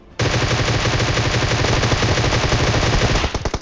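Rapid automatic gunfire in the video game PUBG roars loud and continuous for about three seconds, then breaks into a few separate shots.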